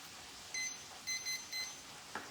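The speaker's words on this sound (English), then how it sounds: "so let's set the timer for that" A kitchen timer beeps while steak cooks in a pan: four short, clear electronic beeps, a single, then a quick pair, then one more, over a faint steady hiss.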